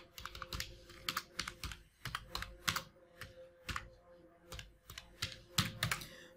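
Quick typing on a computer keyboard into a Google search box, a close, steady patter of key clicks in irregular bursts with brief pauses between them.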